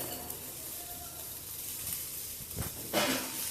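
Onions softening in hot oil in a pan while cooking spinach and lentil kootu, a faint steady sizzle with a couple of brief louder hissing bursts near the end.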